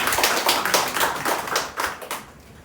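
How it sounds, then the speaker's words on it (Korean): A church congregation at a Sunday morning service claps briefly after a prayer, a short round of rhythmic hand claps close by that tapers off within three seconds. "우리 한번 박수하실까요?"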